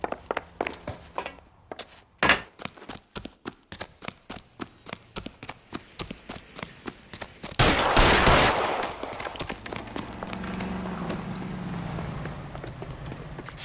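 Rapid gunfire in the video game L.A. Noire, a long series of sharp evenly spaced shots followed by a burst of louder overlapping blasts and a rumbling tail, close and loud with no talk.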